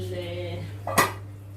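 A pan of chicken slid into a grill gives one sharp metallic clank near the end, close and fairly loud, over a steady low hum.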